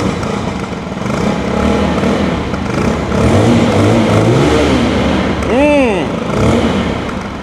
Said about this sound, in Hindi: अब्दुल्ला भाई ज़रा सा थ्रॉटल दीजिएगा, यहाँ पर हल्का सा थ्रॉटल दीजिएगा।